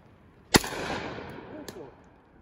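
A single loud shot from a Baikal 153 shotgun fired into the sky cracks sharply, followed by a long fading echo and a faint click afterward.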